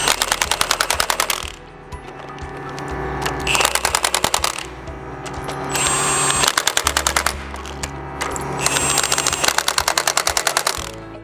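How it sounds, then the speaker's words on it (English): A bolt being driven in during installation of a scale on a machine carriage gives four loud bursts of rapid mechanical clattering, each a few seconds long, separated by a steadier hum. "we're gonna go ahead and attach our bolts."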